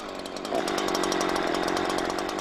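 A chainsaw runs steadily close by, its harsh buzzing drone jumping louder about half a second in and then holding at a constant high revving roar, with no voices.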